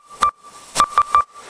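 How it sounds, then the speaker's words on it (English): A short recorded flute phrase: a steady sustained tone broken by four brief breathy accents, played close and alone with no voices. "So here is a clip of a flute that I grabbed off Wikipedia."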